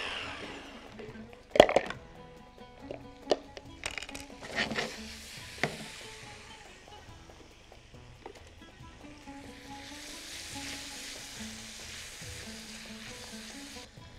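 Onion, garlic and cinnamon sticks hit a hot pan, sharp clatters and stirring bursts at first, then a soft steady sizzle fading in and out, close and fairly quiet, with no voices.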